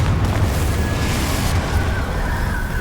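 Confringo spell explosion in the Hogwarts Legacy video game, a dense, loud rumbling boom that fills the moment and holds steady without any pause, close up.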